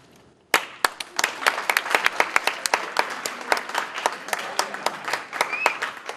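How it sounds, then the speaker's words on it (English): An audience breaks into applause, with many hands clapping in a dense, lively burst that carries on steadily after a sudden start. "give yourselves a round of applause"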